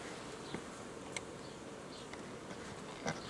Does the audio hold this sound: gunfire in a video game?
no